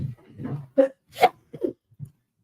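A single sneeze indoors, a sharp close burst in the middle, preceded and followed by soft breathy and vocal sounds.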